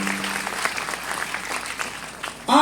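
Sustained audience applause fills a hall during a welcome speech at an Ahmedabad education group event, steady and fairly loud throughout, swelling slightly at the very end.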